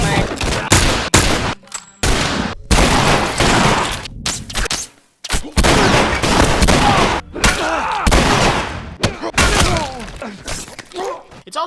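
Gunfire from The Last of Us as hunters in their town are fought off: repeated loud shots and bursts, some rapid fire, with crashes and breaking sounds, under intermittent voices, with brief silent gaps.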